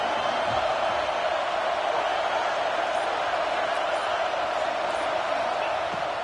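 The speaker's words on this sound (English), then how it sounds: "This crowd bringing the energy and noise early." Football stadium crowd at a Texas A&M game, a dense, steady roar of many voices filling the whole stretch without letup.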